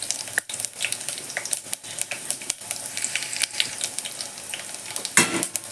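Cut dried red chillies dropped into hot oil with cumin and mustard seeds, a crackling sizzle with sharp pops and stirring clatter, close and busy, no voices.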